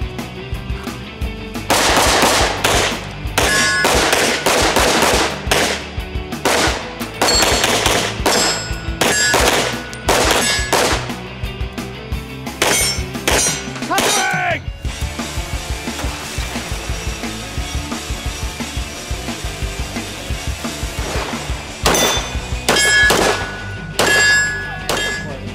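Rapid gunshots ring out during a shooting drill in and around vehicles, each crack ringing off steel targets. The loud, close bursts come in quick irregular strings with a brief lull midway.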